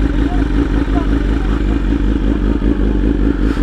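A BMW S1000RR sportbike engine runs loud and steady at close range, a rough low throb with a clattery edge, while a voice speaks faintly underneath.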